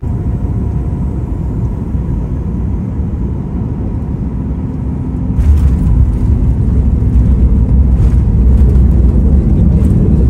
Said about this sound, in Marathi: सक्सेसफुली विमान उतरलं खाली